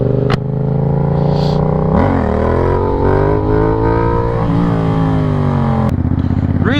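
A motorcycle revs up and down close by to warm its tires, a loud rising and falling engine whine with harmonic tones and brief mechanical clatter, heard alone without talk.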